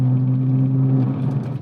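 Porsche engine revving in sports mode, a loud close steady drone with a strong low hum that eases off near the end.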